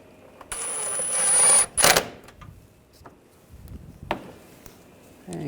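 Bolts being snugged down on a 2009-2010 BMW 535i xDrive front bumper cover, heard as a loud buzzing tool burst lasting about a second, then a sharp clack and a few faint clicks.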